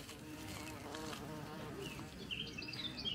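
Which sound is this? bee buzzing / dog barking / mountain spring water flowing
bee buzzing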